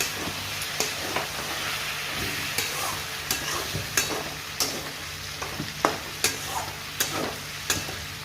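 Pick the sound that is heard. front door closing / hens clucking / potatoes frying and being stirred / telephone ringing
potatoes frying and being stirred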